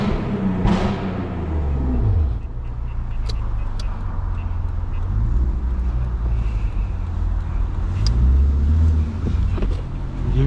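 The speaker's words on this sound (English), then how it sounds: "Let me give you guys some revs." Lexus IS250 with a catless exhaust revs during a night drive, a deep, loud engine drone with rising and falling sweeps as the revs build and drop, steady throughout with some wind noise.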